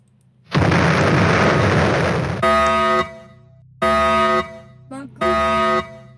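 A loud explosion in the Roblox game Brookhaven bursts out and rumbles for about two seconds, followed by several blaring horn-like tones that repeat with short gaps.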